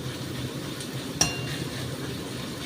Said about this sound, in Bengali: একটু নরম ভাজা হতে হতে আমি এর মধ্যে দিয়ে দিচ্ছি সব